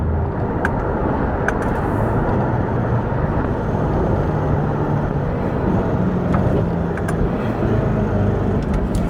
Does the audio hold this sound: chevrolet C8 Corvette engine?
yes